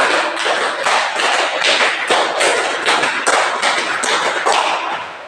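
A group in a classroom claps together in a rhythmic counting game, sharp, loud unison claps repeating in steady patterned bursts throughout, with no talking over them.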